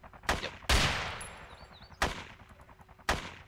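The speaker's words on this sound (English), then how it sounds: "There's another shot. There's a different kind of gun." Several different guns firing in DayZ around Chernogorsk: four loud, sharp gunshots at uneven intervals, one with a long echoing tail, over a quiet game background.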